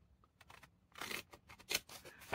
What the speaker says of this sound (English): I'm using short scissors